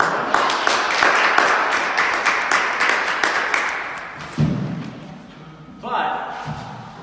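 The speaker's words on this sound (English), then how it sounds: "So big round of applause." An audience claps in a burst of rapid, dense applause for a few seconds, then it thins to scattered claps and a couple of thumps, with voices talking over the end.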